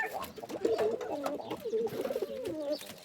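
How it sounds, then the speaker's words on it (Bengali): Pigeons, mostly white and kept in a backyard flock, coo in soft overlapping throaty phrases close by, with faint background noise around them. "কবুতরগুলো দেখতে সুন্দর, সব সাদা বেশিরভাগই।"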